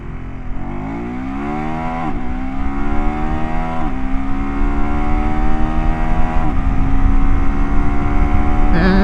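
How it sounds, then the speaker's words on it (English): A KTM 390 Adventure R motorcycle accelerates hard during a 0 to 70 performance run, its single engine note climbing through several rising sweeps, each cut short by a quick-shifter upshift. Loud and close, with no talking. "KTM 390 Adventure R 0 to 70 to 0 performance testing. This motorcycle is equipped with a quick shifter"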